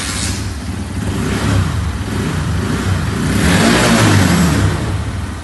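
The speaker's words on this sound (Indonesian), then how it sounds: "kita hidupkan dulu supaya mengetahui suara motor Versa" A Honda Verza motorcycle engine fires up and revs, a steady mid-pitched motor roar that swells in two surges, close and loud, with no talk over it.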